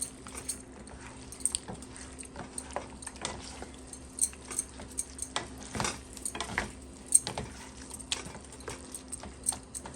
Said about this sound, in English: I'm just gonna let it cook for a few more minutes because we don't want the shrimp to overcook.